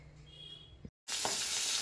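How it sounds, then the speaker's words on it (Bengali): Fish sizzles loudly in hot oil in a pan, with a brief pause before the frying swells up again in a bright, steady crackle. "তো মাছের ঝাল ভাজাটা চাপিয়ে দিয়েছি"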